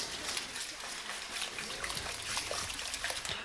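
Cream pours into a quiche mould in a soft, continuous trickle, a gentle liquid stream heard close and fairly quiet with no talking over it.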